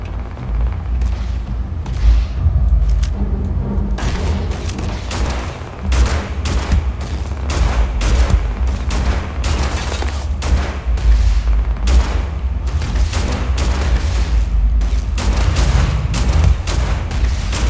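Sustained gunfire from enemies in the Starfield video game, dense overlapping shots and booming thuds rolling continuously at high loudness with no break, close and chaotic.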